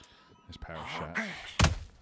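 A power punch lands with a single sharp, heavy thud in the boxing video game Undisputed, following a voice talking just before.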